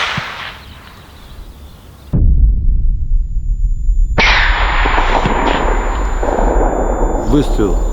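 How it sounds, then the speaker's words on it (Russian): A single sharp, loud rifle shot fired at long range during a roe deer hunt, followed by a steady outdoor background. "Выстрел произведен"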